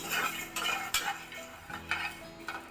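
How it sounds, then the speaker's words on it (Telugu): Dry coconut pieces frying in a pan for a drumstick and cashew curry, stirred with a metal spoon that scrapes and clinks against the pan in quick repeated strokes over a light sizzle. "ఇవి కూడా వేసి ఇప్పుడు బాగా వేయించుదాము"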